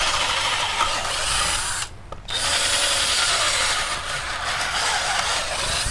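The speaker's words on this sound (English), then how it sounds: "it won't split if you drill a smaller hole first" A power drill bores into stout wood paneling, a steady close whine with a brief pause near the middle before the bit resumes grinding through the wood.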